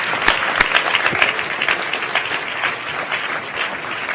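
At the International FameLab science communication final at the Cheltenham Science Festival, an audience applauds the finalists as they leave. The clapping is loud and sustained, with a crowd's worth of hands that thins slightly toward the end.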